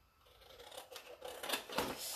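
Scissors snip a small piece of paper in a craft workshop, a few quick close crisp cuts building in rhythm, with no talk.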